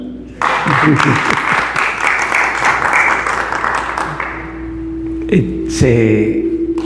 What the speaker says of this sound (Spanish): pido para Germán un aplauso